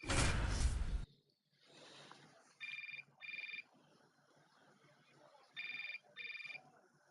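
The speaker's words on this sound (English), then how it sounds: "Your phone is ringing." A phone ringing in the baseball video game MLB 25, two double bursts of a bright electronic ringtone spaced a few seconds apart, over faint ambience after a loud opening whoosh.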